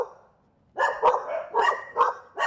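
Several dogs guarding shops on a street bark in a rapid run of loud, close yelps and barks, coming in clustered bursts after a brief quiet start.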